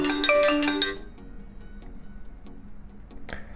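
A phone rings loudly with a short electronic ringtone, set off by the anti-lost finder on a NO 1 SUN S2 metal smartwatch. Quiet ticks and a brief chime follow.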